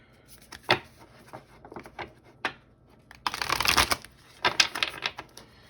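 Tarot cards are shuffled close up, with scattered soft riffles and taps, then a dense burst of shuffling and a few quicker flurries, with no talking.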